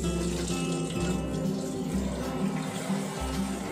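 Water gushes steadily from a newly fitted faucet extension on an old tap, a continuous splashing rush with a low hum underneath and no speech.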